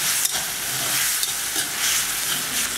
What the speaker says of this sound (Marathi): 1 चमचाभर लसणाची पेस्ट, 1 अर्धा चमचा आल्याची पेस्ट आणि हे छान परतून घ्यायचं